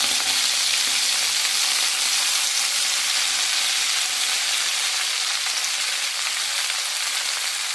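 Gongura leaves fry in a pan with dried and green chillies, giving a loud, continuous, even sizzle with no speech.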